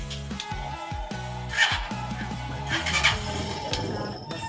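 A Eureka wall fan with a faulty motor spins in reverse, giving a steady, noisy motor hum with rattling and a few louder knocks, heard up close.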